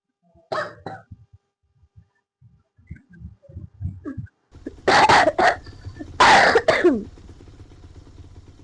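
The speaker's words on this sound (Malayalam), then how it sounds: "ചുമ പിടിച്ചു" A person coughs several times: a few short coughs, quiet throat sounds, then two loud, harsh bursts of coughing close up.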